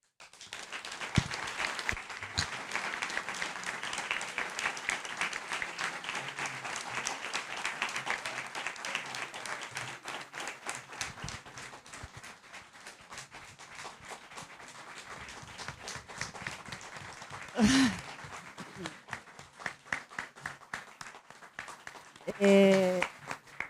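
Applause for the late author at a book launch for "Chicho Allende" by Carlos Jorquera: a sustained burst of many hands clapping in a room, fading toward the end, followed by a couple of loud handling knocks.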